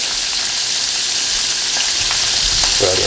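Garlic sizzles loudly in a hot frying pan, a dense continuous crackle close up with a brief stirring scrape near the end and no talking.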